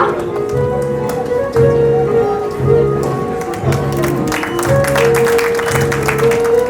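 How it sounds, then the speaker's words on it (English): An audience at a school annual prize distribution gives a student a round of applause. The scattered clapping comes in over a looping music track and is steady at moderate loudness. "A big round of applause for Bhavika."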